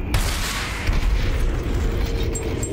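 Grenade blasts in the VR battle royale game Population: One, a dense, continuous rumbling boom with heavy low-end and crackling debris, sustained and loud across the whole stretch with no talk over it.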